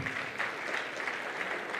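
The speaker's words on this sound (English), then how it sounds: "Another round of applause, ladies and gentlemen," Audience applause at a Merck Foundation conference in Tanzania, a steady wash of many hands clapping at moderate volume for the whole stretch, with no speech over it.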